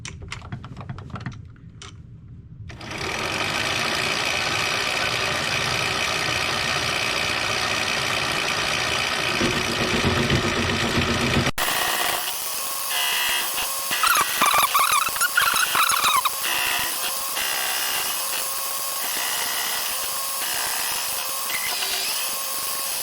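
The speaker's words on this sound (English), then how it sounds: "So we're basically going to be spinning that and cutting it with our cutting tool." A metal disc is cut into a circle for a gear on a rotary table, giving a loud, steady machining drone with rattling cutter noise that shifts in tone partway through, with no talk.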